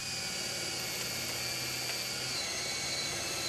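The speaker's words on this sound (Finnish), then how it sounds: "Tehdään poikoseen 3-4 reikää 10 mm poranterällä ilmavirran kulkeutumisen varmistamiseksi" A power drill with a 10 mm bit whines steadily at high speed, boring holes in a roof support timber, close and continuous, with no pauses.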